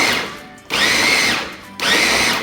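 A blender whirs loudly at speed 2, chopping raw chicken breast for air-fryer chicken patties, in two long bursts that start abruptly after a brief pause, each with a steady high motor whine.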